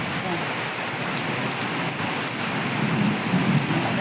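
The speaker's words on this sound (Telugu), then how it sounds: "వర్షం ఎలా పడుతుందో చూడండి" Heavy rain pours steadily onto trees over a harvest field, a dense continuous hiss with a faint low rumble underneath and no voices.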